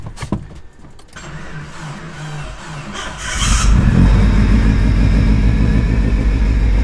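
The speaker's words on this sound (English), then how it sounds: "Tell me that's not the most weird E85 cold start you've ever heard, where it sounds like it's not gonna start." A Toyota Supra running on E85 fuel cold-starts with about three seconds of uneven, sputtering cranking. It then catches suddenly into a loud, steady, rumbling idle up close.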